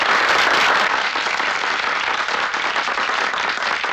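A large audience claps steadily and loudly, dense overlapping applause filling the whole stretch without anyone speaking over it.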